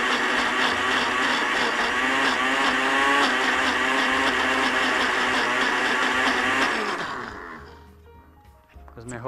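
A blender struggling to process zucchini pesto whirs loudly and steadily for several seconds with slight pulsing in its pitch, then winds down and stops.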